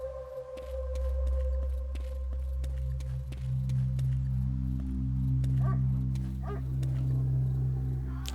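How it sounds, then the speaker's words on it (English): In the Dark Skies 2 video game, a dog barks far away: two or three faint, brief barks rise over a constant low droning hum and ambient noise. "I can still hear the dog in the distance"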